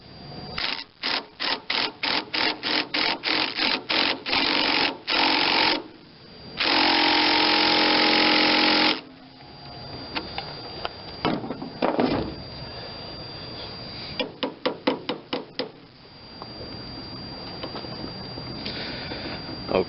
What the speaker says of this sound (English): I'm going to make an attempt with this 2-jaw puller.